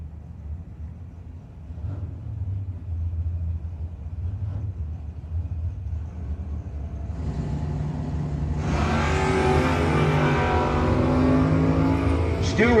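Drag race launch between a 1980 Malibu and a 1964 Chevelle at a no-box 660 shootout, engines idling and rumbling at the line before a loud rising roar as the cars leave, with crowd noise and talk underneath.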